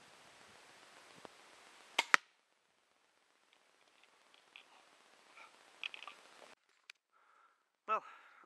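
A pistol crossbow shot at a paper target during a run-and-gun drill outdoors: sharp snapping releases at about two and eight seconds, with quieter handling rustles and brief voice sounds between them.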